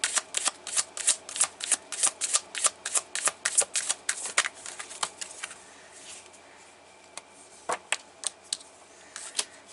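Tarot cards being shuffled and drawn, a rapid run of crisp riffling flicks for about six seconds, then a quieter pause and a few separate snaps as single cards are pulled and laid down, close and without any voice.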